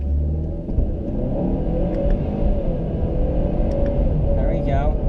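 A Ford Fusion accelerates hard in sport mode, its mid-pitched engine rumbling loud and steady throughout with rising revs, while a voice talks over the noise.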